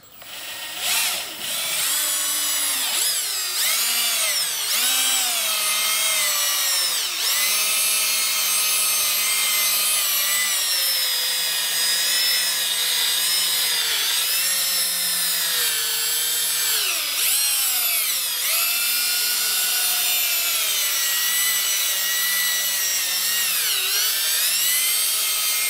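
A power drill whines steadily and loudly while cleaning a Mini Cooper headlight, its pitch dipping and recovering repeatedly as it bears down under load.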